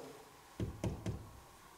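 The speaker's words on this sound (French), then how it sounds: "Ou le cogner dans cette porte, faire un petit bruit." Three firm knocks on a door in a hospital, evenly spaced and fairly close, each a dull thud in an otherwise quiet room.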